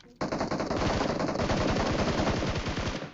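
Sustained automatic gunfire in a battle royale video game comes as a fast, loud, rapid-fire burst of rattling shots. It runs continuously for about three seconds after an abrupt start.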